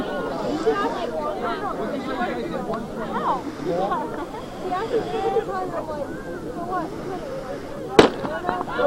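A starter pistol fires once to begin a high school track race, a sharp crack late in the clip over steady crowd chatter and babble at an outdoor meet.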